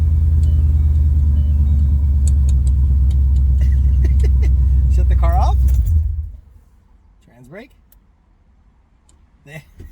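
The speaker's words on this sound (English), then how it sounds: "let's get the car running" Coyote-swapped Ford GT500 engine idling with a deep, loud, steady rumble that cuts off abruptly when shut down, followed by quiet clicks and someone talking.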